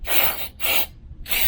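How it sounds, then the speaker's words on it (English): Three short bursts of spray hiss from an aerosol cleaner into the filter port of an Indian Challenger motorcycle, close up, separated by brief pauses. "just a spray there, knock some of that debris out of there"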